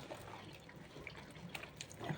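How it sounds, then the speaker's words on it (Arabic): Cold water is poured into freshly churned homemade butter, giving soft, faint trickles and drips with no talk. "حطيت ميه ساقعين كده"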